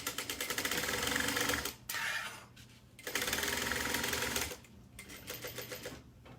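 A sewing machine runs basting stitches down a foam-backed panel in quick rattling runs with short pauses between them, close but fairly quiet, and no one speaks.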